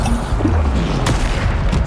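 A Bombarda blasting spell from Hogwarts Legacy erupts in a dense barrage of booming explosive bursts, loud and continuous, with a sharp crack near the middle, thick with rumbling low-end impact.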